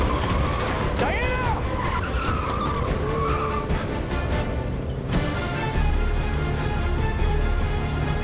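A film car chase with skidding, squealing tires and a revving engine, dense and loud throughout, with dialogue voices heard over the action.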